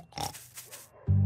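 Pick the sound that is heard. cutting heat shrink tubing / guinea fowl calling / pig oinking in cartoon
pig oinking in cartoon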